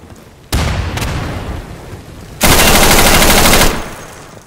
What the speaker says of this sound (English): I'm throwing a frag grenade.